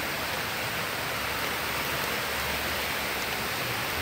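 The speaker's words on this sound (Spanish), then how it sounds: "escuchemos la lluvia y cómo caen las gotas" Heavy rain pours down in a dense, steady hiss, loud and unbroken from start to finish.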